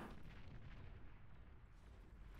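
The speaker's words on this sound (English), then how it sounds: "Those were pretty good shots." Rolling artillery and gunfire from a 3v3 Beyond All Reason strategy battle on the Charlie in the Hills map, a steady dense rumble of low booms and crackling shots that keeps going throughout.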